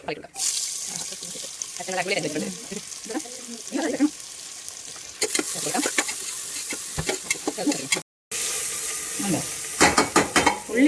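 Cinnamon and cloves fry in coconut oil inside a pressure cooker, giving a steady close sizzle with stirring clatter. A voice talks over it for much of the time, and there is a brief silent break near the end.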